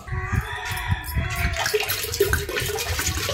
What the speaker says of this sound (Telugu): వాటర్ అనేది పోస్తున్నానండి